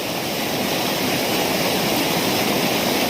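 A heavy downpour at an outdoor fishing spot makes a loud, constant wash of rushing noise close by, with no voices and no change in intensity.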